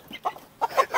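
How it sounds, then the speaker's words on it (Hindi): A rooster gives a few short, close clucks in quick bursts while being chased and grabbed on a farm, with no talking over them. "एक मुर्गा नहीं पकड़ा जा रहा मुझसे यार"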